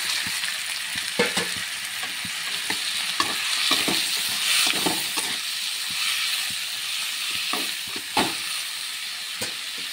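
Masala for chicken curry frying and being stirred in a pan: steady loud sizzling with repeated scraping strokes of a spoon, close and continuous without talk.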